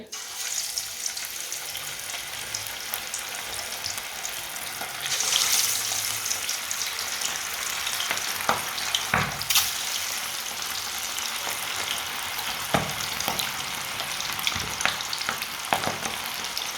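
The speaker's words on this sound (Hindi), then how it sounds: "अब एक एक पीस करके डाल लेंगे" Fish pieces slid one at a time into hot oil, the steady sizzle swelling as each lands, with occasional clicks and taps of a utensil, close and continuous with no talking.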